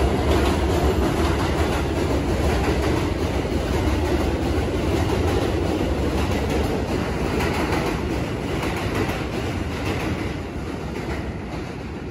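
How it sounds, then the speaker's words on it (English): A New York subway J train rumbles past in Brooklyn, a loud continuous rolling clatter of rail cars that fades slightly toward the end, with no voices. "Here come the train, y'all. That's the J train."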